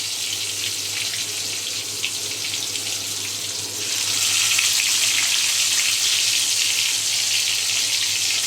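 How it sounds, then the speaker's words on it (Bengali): Eggplant pieces frying in oil for a Bengali hilsa-head kalia, a steady broadband sizzle that swells louder about halfway through and holds without a break, with no talk. "বেগুনগুলোকে হালকা করে ভেজে নেব"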